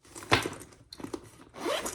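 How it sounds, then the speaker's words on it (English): A zipper on a fabric crossbody bag is pulled open or closed in three quick rasping strokes, close and clear, with brief pauses between them. "a zipper closure with a strap in it, so a nice zipper closure"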